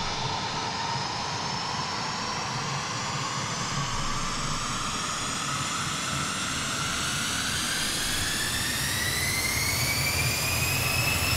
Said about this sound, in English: let's hear that from the outside, the spool of the engines